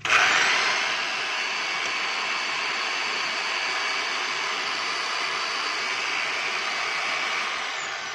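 A DeWalt D25899 10 kg jackhammer runs with a loud, steady motor roar close by. The sound is even and continuous, with no distinct hammering blows.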